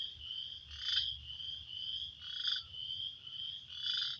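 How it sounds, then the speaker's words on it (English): Frogs croaking in a wetland beside a creek after rain, a steady high-pitched trilling chorus with louder pulsing calls swelling roughly every second and a half, heard at moderate distance with a low rumble beneath. "You can hear the frogs."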